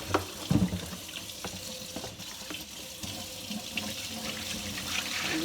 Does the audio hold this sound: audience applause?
no